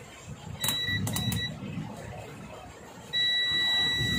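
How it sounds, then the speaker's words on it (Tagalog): A circuit tester buzzer beeps in short high-pitched bursts while checking a television circuit for a short, a few quick tones, then a longer sustained beep near the end, over quiet background noise. "Gagamit tayo ng buzzer."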